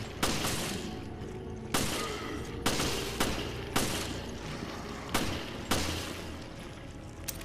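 Gunfire in the video game Resident Evil Revelations: six sharp, loud shots spaced roughly a second apart, each trailing into a short echoing decay over steady background noise.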